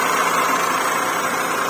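A repaired engine runs steadily after a faulty high-tension wire was fixed, giving a continuous, fairly loud idling hum with no speech.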